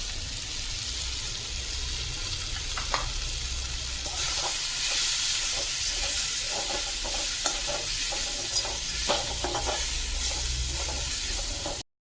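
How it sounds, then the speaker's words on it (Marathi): Dry coconut roasting in a pan together with already-fried onion and tomato for a crab masala, with steady close sizzling and frequent stirring scrapes and clicks of a spatula throughout. "आपण खोबरं, सुकं खोबरं वेगळं भाजलं नाही, ह्याच्यामध्येच भाजून घेऊया."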